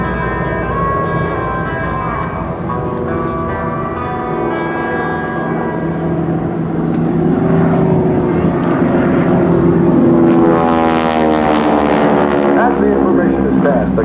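Propeller aircraft of the Geico Skytypers flying at an airshow, a steady droning engine hum that swells louder toward the end, with announcer-style talk running over it.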